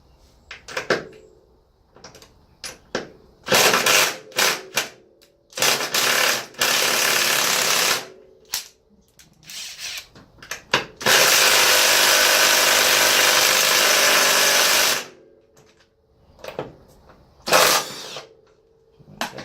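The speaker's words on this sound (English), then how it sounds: "So we're going to try to hit off these two upper suspension bolts." Kobalt 3/8-inch drive impact wrench hammering on upper suspension bolts, loud repeated bursts of rattling impacts, short at first and then one long sustained run, with brief pauses between.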